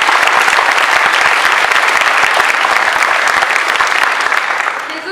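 Loud, dense clapping from a theatre audience at a school student revue, steady and full throughout with no voices standing out.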